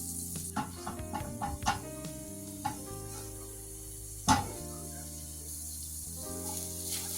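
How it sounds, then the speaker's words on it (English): Broccoli and other vegetables sizzle in a hot pan with sauce, a soft steady frying hiss punctuated by scraping stirs and a sharp clack as the pan is tossed. "You're going to give those a good toss, making sure everyone gets a little bit of the sauce."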